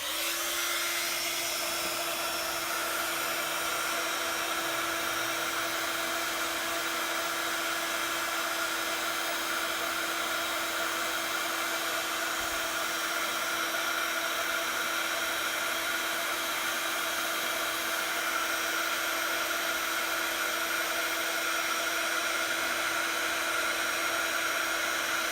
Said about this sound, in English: I'm just going to heat set that with our heat tool, so please excuse the noise